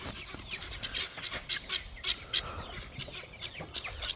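Rooster and hens in a farmyard flock, clucking and squawking steadily at close range in a busy, overlapping chorus with no talking.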